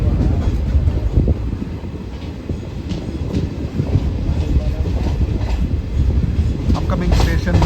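Chennai Express train pulling out of Nalgonda station, heard from inside the coach as a loud continuous rumble with rhythmic clickety-clack of wheels over the rails.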